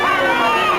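Circus audience in a 1963 Astro Boy cartoon reacting as one, a dense steady hubbub of many voices filling the short moment at full, close level.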